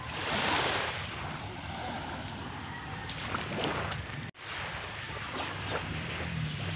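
Steady wash of sea waves and surf at a calm beach, with wind rushing across the microphone, broken by one brief dropout partway through.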